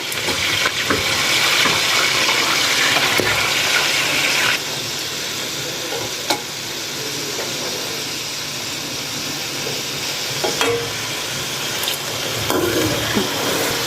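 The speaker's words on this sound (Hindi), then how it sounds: "सबसे पहले हम चिकन को डालकर अच्छी तरह इनको भूनेंगे" Chicken pieces frying in hot ghee over medium heat for a chicken curry, giving a loud, steady sizzle with bubbling and occasional stirring clatter that eases slightly partway through, with no talking.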